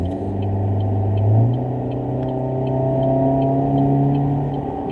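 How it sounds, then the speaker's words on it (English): Road traffic with cars going by: a steady, fairly loud engine rumble with a droning tone that shifts pitch partway through, as one vehicle passes and another follows, with no talking. "I'm gonna try to move toward this traffic here"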